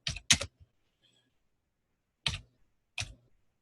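A computer keyboard is typed on while writing Hebrew, giving a few short clusters of crisp, close key clicks separated by silent gaps.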